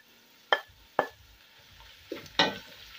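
Ginger and garlic go into a pan of frying onions, with a few sharp scrapes and clatters of stirring spaced out over a faint, quiet sizzle.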